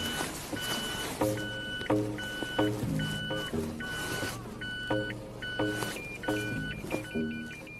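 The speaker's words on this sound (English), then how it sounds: "See, it's beeping all over the place. How are we going there? So you can hear the warning bells." Repeated electronic warning beeps from a Nissan Dayz's reversing sensors while the car backs into a small parking bay, a steady pulsing pattern of short tones over low vehicle rumble, close and fairly loud.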